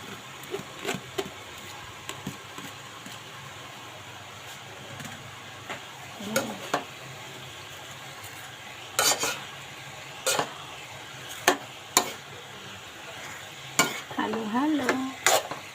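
Cabbage is stir-fried in a pan under a faint steady sizzle, broken by sharp scraping and clanking strokes of a utensil against the metal that come in irregular bursts, close and moderately loud.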